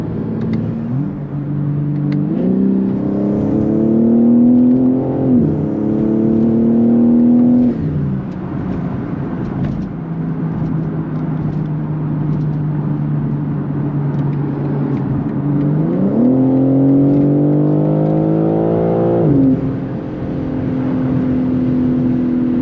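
A BMW G80 M3 accelerates hard on a highway, its engine note rising through the gears, with clear shifts where the pitch drops and climbs again, loud and close from inside the car.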